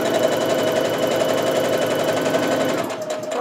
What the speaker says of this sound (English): I'm going to take my first couple of stitches, as always, to get that seam nice and secure before I remove my pin